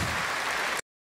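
A short burst of dense crowd applause from an audience rises steadily, then cuts off abruptly into silence.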